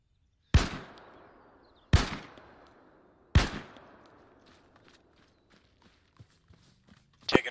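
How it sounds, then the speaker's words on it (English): Three loud, separate gunshot cracks in ArmA 3, each trailing a long reverberant decay, followed by faint scattered pops and footstep-like clicks before another sharp shot at the end. "Taking direct fire."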